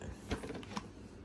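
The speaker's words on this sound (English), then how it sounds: "the canister's open and we're gonna go ahead and close it up" Plastic dust canister on a Dyson V8 Animal cordless stick vacuum being snapped shut, giving a few quiet mechanical clicks and creaks over about a second, close up and faint with no talking.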